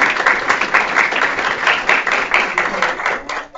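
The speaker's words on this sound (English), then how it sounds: "let's go ahead and give a round of applause" Audience applause at a university panel for a Chicano and Latino Studies minor, a steady dense wash of clapping from many hands that carries on for several seconds before tapering off near the end.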